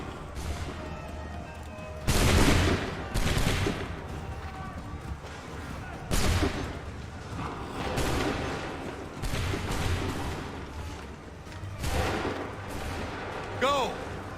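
Musket volleys crack out in Assassin's Creed 3, several loud booming bursts spaced a couple of seconds apart over a busy battle background.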